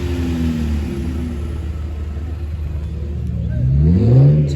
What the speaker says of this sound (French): Une Camaro, tiens on dirait dans les Transformers.